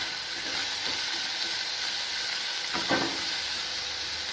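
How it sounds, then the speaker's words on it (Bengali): Carrots and beans sizzle in a hot pan, a steady broadband hiss running throughout with a brief louder crackle near the end and no talking. "এখন আমি গাজর বিনগুলো দিয়ে দিচ্ছি।"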